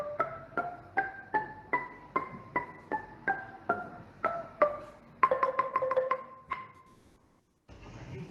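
A kolintang melody instrument (ina), a row of tuned gongs, is struck in a steady sequence of ringing metallic notes, quicker near the end, then it falls quiet, soft and close.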